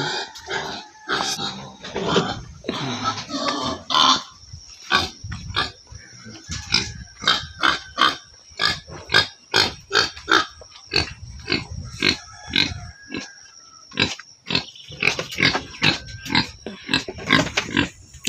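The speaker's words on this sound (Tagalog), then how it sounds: "Sige nag-ilagak ang baboy ni Derger." A pig squeals and grunts over and over near a house in the rural Philippines, loud repeated bursts in an uneven rhythm that continue for the whole stretch with no talk.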